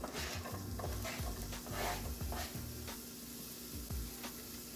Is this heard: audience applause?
no